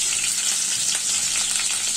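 Chopped green chilli and garlic fry in hot oil, giving a brief, loud, steady sizzle close by with no talk.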